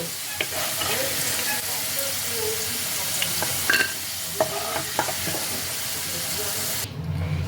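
Potatoes fried golden-red in hot oil keep up a steady, close sizzle for ghugni, with a few sharp clinks and scrapes as the pieces are lifted out into a separate bowl.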